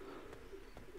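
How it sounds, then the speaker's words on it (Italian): Pigeons coo softly in a park scene from the video game Vanquish, two or three low throaty coos spaced across a second over a steady ambient hum. "Piccioni."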